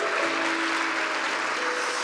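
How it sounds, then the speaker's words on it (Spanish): A church congregation claps in a short, steady burst of applause, full and close, with a faint held tone sounding underneath. "Dale un aplauso a Dios por eso."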